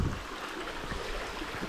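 A small stream trickles and flows through a wooded gully, a faint steady wash of water with a few soft knocks over it.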